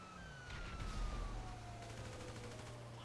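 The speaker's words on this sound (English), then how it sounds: "Sirens don't sound good." Police sirens wail from pursuing cop cars in a GTA V heist mission, a steady rising and falling tone running through the whole stretch over low engine rumble, with bursts of gunfire and a faint voice nearby.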